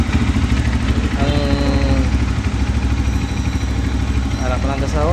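Rusi Flame 150i motorcycle engine idling with a steady low rumbling chug close by, while someone talks over it throughout.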